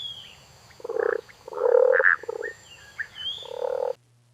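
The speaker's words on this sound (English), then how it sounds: "Frog. The frog is jumping." Frog croaking in a few short, throaty bursts with brief gaps between them, close and clear against quiet background hiss, with no talking.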